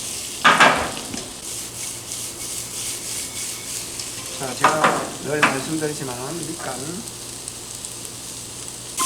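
Vegetables and garlic stir-fry over high heat, a steady close sizzle with scraping stirs, while someone talks over the cooking.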